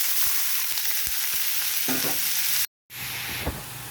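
Chopped onions frying in two spoonfuls of ghee for béchamel pasta, with a steady close sizzle and rhythmic scrapes of a stirring spoon. A brief dropout breaks the sound before the frying resumes.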